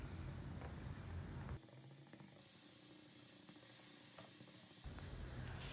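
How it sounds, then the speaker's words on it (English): Spinach and mushroom stuffing sizzles and hisses in a pan. The sizzle is faint and steady, drops quieter for a few seconds in the middle, then comes back. "we need to cook the spinach for just a minute or so until they are wilted or the moisture dries out completely"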